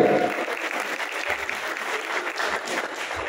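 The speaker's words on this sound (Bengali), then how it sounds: "সবাই জোরদার করতালি" An audience at a college award ceremony in Dhaka claps in a short burst of steady, moderately loud applause that fills the room.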